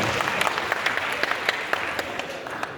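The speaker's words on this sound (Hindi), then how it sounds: "4-5 लोग तालियां बजा दें जरा।" A small crowd at a mushaira poetry night claps briefly, a few distinct hands beating at a loose, uneven rhythm against a steady room murmur.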